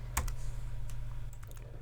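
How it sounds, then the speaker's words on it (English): A few sharp computer keyboard key presses click close by in a quiet room, with one distinct tap near the start and lighter taps toward the end. "I hit W on the keyboard, and that pastes this into the timeline"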